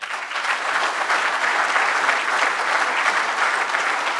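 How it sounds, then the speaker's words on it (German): Sustained applause from a crowd at an AfD political campaign rally in Kirchhain, a dense, even wash of clapping that holds steady and loud throughout with no speech over it. "Applaus"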